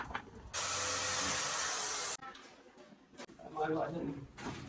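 A power screwdriver runs in one loud, steady burst while screws fasten the perimeter frame of a sliding window. It is followed by quieter clicks and handling noise, with someone speaking over the later part.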